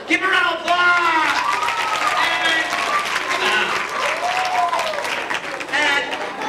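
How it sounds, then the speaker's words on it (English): An assembly audience claps and cheers loudly for several seconds. The clapping is dense and close, and children's voices shout and call out over it throughout. "Give them a round of applause!"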